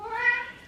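Pet cat meowing for its food bowls, a single short tonal meow rising then falling, close and clear, with no talk.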